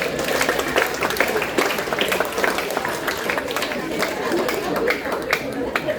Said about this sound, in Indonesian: Tepuk tangannya jangan terlalu panjang,